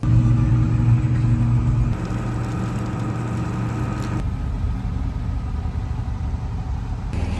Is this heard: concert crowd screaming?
no